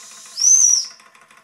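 Small operating steam engine giving a short, high, thin whistle toot of about half a second over a soft background hiss of steam.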